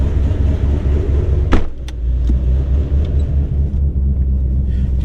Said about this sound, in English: Definitely hear just the sound that it's making. It's definitely gargling. It's definitely making all that noise.